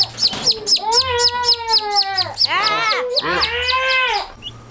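White midget and black artisan baby turkeys in a brooder let out loud, close, high-pitched peeping calls in quick repeated bursts, several birds overlapping over a low background hum.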